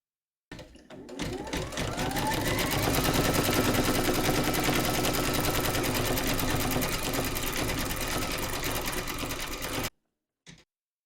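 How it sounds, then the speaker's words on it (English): An embroidery machine stitches a mandala onto a glasses case, a fast steady mechanical rattle running loud and unbroken for about nine seconds before stopping, then one brief burst after. "Load your thread colour for the mandala into your machine and then stitch round number 4."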